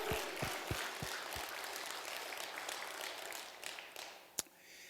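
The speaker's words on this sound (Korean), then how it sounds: "이 선물을 주신 하나님께 박수로 영광 올리겠습니다" A church congregation at a spiritual revival service claps, first with a few distinct sharp claps and then with a softer, diffuse patter that fades. One loud clap lands near the end.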